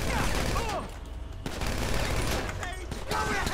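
Gunfire in GTA 5 Online: dense bursts of shots and rapid automatic fire crackle loudly and almost without pause, with brief lulls between volleys and a voice speaking over the shooting.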